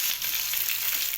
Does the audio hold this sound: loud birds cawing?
no